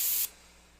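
An airbrush sprays paint while working on tiki art: one short, loud, close hissing burst that cuts off abruptly, leaving quiet room tone.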